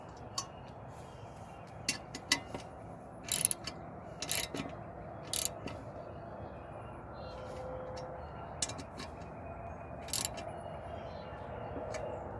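Metal wrench clicks and short ratcheting bursts while tightening a fitting on an aftermarket intake manifold, scattered sharp ticks over a quiet workshop background.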